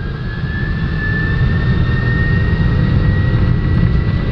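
Airbus jet engines of a German Air Force transport run at takeoff power, heard from the cockpit as a loud, steady roar with a thin high whine over it and no speech.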